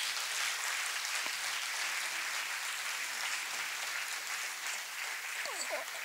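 Dense, sustained applause from a large audience at a ghazal concert tribute fills the whole stretch, loud and even, with faint voices mixed in.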